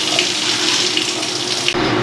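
Water runs steadily from a kitchen tap into a sink, a continuous close splashing hiss that holds even for about two seconds and then cuts off abruptly near the end.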